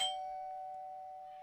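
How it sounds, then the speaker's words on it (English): A single electronic doorbell chime in a video game, struck once and ringing out as a steady sustained tone that slowly fades, alone without talk. "After you complete changing the diaper, the doorbell rings."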